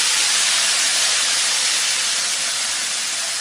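Ground spice paste frying in hot oil in a pan, after shrimp paste was fried first, giving a steady, loud, broadband sizzle that holds evenly throughout with no talking.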